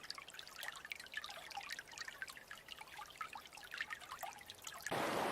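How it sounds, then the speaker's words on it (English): Light water trickling and dribbling steadily in a creek, with scattered bright drips and splashes over a quiet background, close by and continuous. "I've captured trickling creeks"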